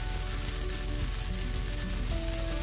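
Cheese cilantro dosa frying on a hot pan with a few drops of oil: a dense, steady sizzle, loud and close, with no talk.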